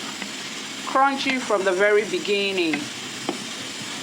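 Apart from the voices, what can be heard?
fries frying in hot oil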